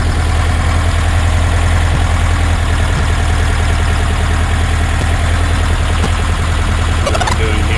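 A 1966 Porsche 912 flat-four with Solex carburetors idling close by, a steady, loud, even mechanical drone that holds constant throughout, with a brief metallic tick near the end.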